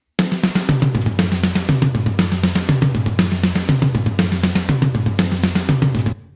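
Metal drum fill loop in a music production session: a driving pattern of rapid kick drums under crashing cymbals, repeating in steady one-second cycles and played loud and alone until it cuts off.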